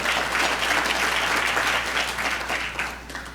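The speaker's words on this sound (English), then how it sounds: "Let's give another round of applause" A crowd at a career academy closing celebration gives a sustained round of applause for honored guests, a thick wash of clapping that stays even and fairly loud before easing slightly near the end.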